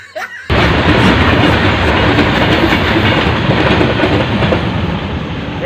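A train on rails roars in suddenly after a quiet half-second, a loud, close, continuous rumble with rhythmic clatter that holds to the end.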